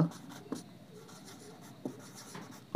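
Chalk or marker writing on a board during a Bengali logic lesson makes soft scratchy strokes, with short tapping accents where the tool meets the board, quiet and close, and no speech over it.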